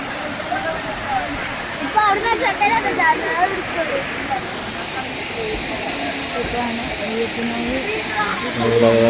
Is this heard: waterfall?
yes